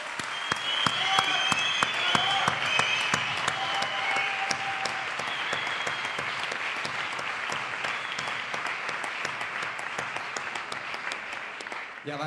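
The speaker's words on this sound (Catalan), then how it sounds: "Un fort aplaudiment per ell." An audience at the Zirkòlika circus awards night applauds a presenter, sustained dense clapping from a crowd that stays loud and even throughout, with faint voices mixed in.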